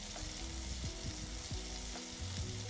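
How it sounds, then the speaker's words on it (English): Chicken pieces sizzle and crackle in hot oil in a pan, a continuous close fry with intermittent scraping stir sounds and soft clinks, no talking. "Fall asleep to the beautiful sounds of the sizzling chicken."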